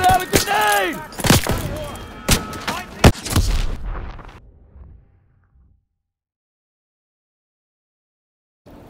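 A grenade blast in the World War II shooter Call of Duty: WWII lands as a loud, booming burst among heavy gunfire and shouted voices, then the roar rolls off and decays into near silence.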